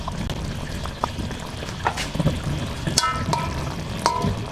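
Green chillies dropped into a Bengali dish frying in a pan, a steady close sizzle with scattered small clicks and stirring taps, no talk.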